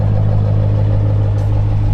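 Straight-piped 2022 Chrysler 300 S idling nearby, a loud, steady, deep rumble with no revving over the short stretch.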